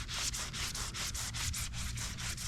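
Fine 8,000-grit wet sandpaper worked by hand over a scratched groove on a John Deere tractor part, an even run of brisk scrubbing strokes, close up and continuous with no voices.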